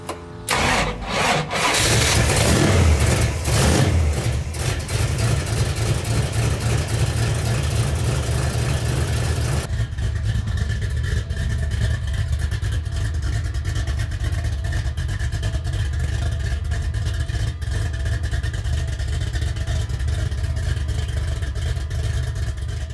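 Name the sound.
1963 Ford Galaxie car engine running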